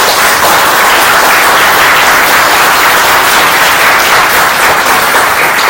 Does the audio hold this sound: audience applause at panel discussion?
yes